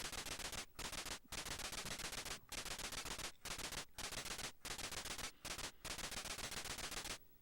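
A laser weapon fires in the Knight Rider NES game as a harsh, dense, static-like blast that runs in long bursts broken by brief silent gaps. It is fairly loud and heard alone, with no voices.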